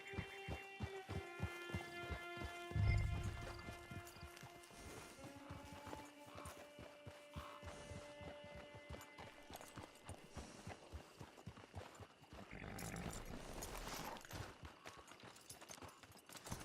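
Horse hooves clip-clop at a steady walking pace over a low hum and music-like tones in the video game Red Dead Redemption 2, the footfalls soft and continuous throughout.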